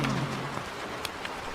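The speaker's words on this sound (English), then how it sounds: "Thunder cracked. Rain poured harder." Rain and thunder effect for a dark fantasy audio story: a steady wash of heavy rain with a low rumble at the start and a few sharp drop-like cracks, played alone without narration.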